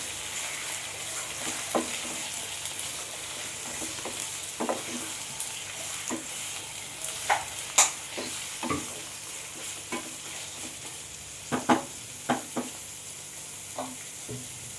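Mutton frying in a pan for kosha crackles with a soft continuous sizzle, while a spatula stirs it in scattered scraping strokes and clinks, close and moderately loud.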